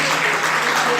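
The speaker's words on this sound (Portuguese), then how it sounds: "Você pode aplaudir a Deus por isso?" Congregation at a church service applauds loudly, a thick, continuous wash of clapping close by, with a faint voice underneath for about a second.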